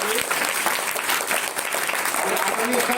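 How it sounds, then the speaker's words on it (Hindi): Loud, dense applause from a crowd of school children at an outdoor Azadi Amrit Mahotsav celebration in Hapur, steady clapping filling the whole stretch with a voice faintly under it. "तो एक बार जोरदार तालियां फिर अपने आजादी"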